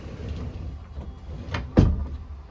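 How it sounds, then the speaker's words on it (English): A pocket door in a 2023 Sunseeker 3050SF slides along its track with a soft rolling rumble, then catches with a single solid latch thump near the end. Nearby, close and fairly quiet, no speech. "The pocket door just slides, however it does latch both open and closed"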